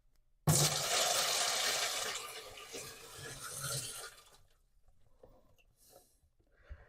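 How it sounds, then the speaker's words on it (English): Water gushes steadily into a water softener tank for about four seconds, then stops abruptly, leaving faint shuffling sounds. "Now it's time to pour 3 gallons of water inside the water softener."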